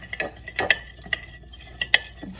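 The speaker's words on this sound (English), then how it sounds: "And then I'm gonna mix it around." Homemade herbal hair oil with rosemary being mixed in a container, a few quick, light clinks and scrapes of a utensil against the vessel, close and quiet with brief gaps between them.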